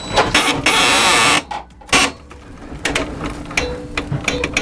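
A wrench cranking down a lug onto a main service conductor, making a loud close run of ratcheting, grinding clicks with brief pauses between bursts of turning.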